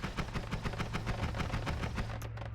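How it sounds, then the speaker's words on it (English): Explosions in the video game Noita crackle in a rapid, steady string of bursts lasting a few seconds, loud and dense like sustained gunfire over a constant low hum, with no voices. "That's obviously explosions."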